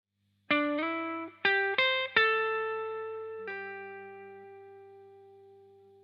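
A distorted electric guitar plays a short phrase of six picked notes from an intro solo, the last one sustained and slowly fading out.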